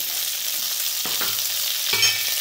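Peanuts, roasted gram, green chillies and coconut fry in hot oil with a steady hiss, and a couple of short stirring scrapes break in close by.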